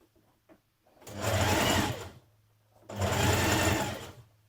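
Sewing machine stitching a small skirt hem in two sustained runs of about a second each, separated by a short pause, loud and close with no talk.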